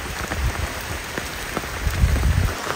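Rain falling steadily across a farm plantation, a dense even patter of drops hitting surfaces with occasional louder splashes, no voices.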